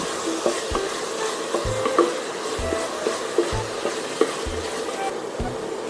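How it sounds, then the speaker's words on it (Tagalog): Chicken pieces for tinola fry with a steady sizzle in a pan, broken by regular clanking scrapes of a spoon stirring every second or so, close and alone with no talk. "Then you can put in the chicken."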